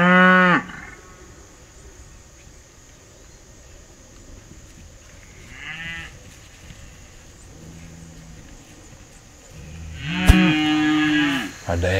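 Cattle low in a foggy open pasture, with a long moo at the start, a softer one midway and a louder, drawn-out bellow near the end over a quiet outdoor background.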